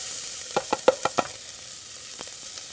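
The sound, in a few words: chopped onion frying in olive oil in a pot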